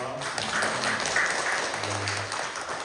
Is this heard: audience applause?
yes